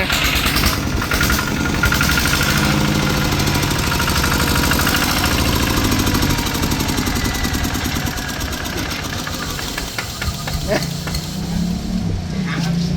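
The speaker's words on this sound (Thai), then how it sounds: "อ่ะโอเคประมาณนี้แล้วเร่งเครื่องให้ฟังกันหน่อยนะ" A Kubota ZT100 single-cylinder engine runs steadily with a knocking idle and a rise in revs, loud and close, while someone speaks over it.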